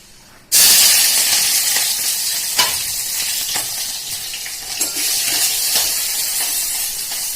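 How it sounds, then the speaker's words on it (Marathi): Onion and green chilli hit hot oil with a sudden loud sizzle, then a steady close frying hiss continues throughout, broken by a few soft stirring knocks. "त्यासाठी तेल मी तापत ठेवलं, ह्याच्यामध्ये कांदा आणि मिरची टाकूया"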